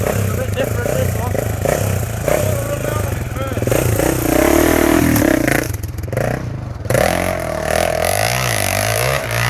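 A dirt bike engine revs and drones continuously, rising and falling in pitch with rough, raspy throttle bursts, while people talk loosely over it.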